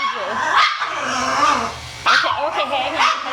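A reactive dog barking and yelping loudly during a grooming session, a sharp outburst at the start and another around the two-second mark, with close, continuous voices of people talking under it.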